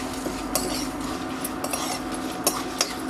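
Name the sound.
roasting dry red chillies and spices in a pan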